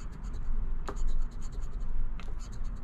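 Scratch-off lottery ticket being scraped, part of a whole roll of $5 tickets: steady close-up rasping scratching throughout, with two sharper scrapes standing out and no clear talk over it.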